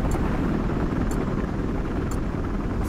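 A helicopter in the video game Battlefield Hardline roars steadily and loudly throughout, a continuous dense rotor and engine drone with faint periodic high clicks.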